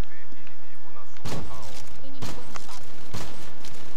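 Gunfire in Call of Duty Black Ops 3 multiplayer, a few sharp loud shots cracking out in separate bursts over a busy game soundtrack, with an excited voice talking in between.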